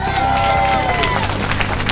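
A candlepin bowling crowd at a Maine event cheers and claps for a young bowler, a dense roar of voices and applause close by that stays loud for the whole stretch.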